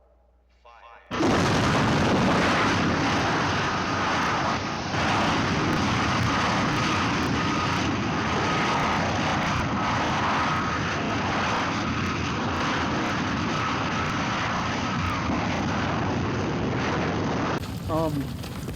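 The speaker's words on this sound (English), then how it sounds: "finally, we get to see the rocket, the Gemini rocket, and they send it up, and it goes up" A Gemini rocket launch from the 1967 film Countdown, heard as a loud, sustained roar of engine thunder that starts abruptly and rumbles continuously for about sixteen seconds before cutting off.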